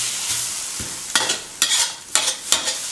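Bitter melon and egg sizzle in a hot wok over high heat as a spatula scrapes and tosses them in several quick stirring strokes, close up.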